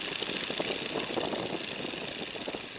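Light aircraft engine throttled back toward idle in flight, a steady continuous drone with a soft, even rumble and no talk over it.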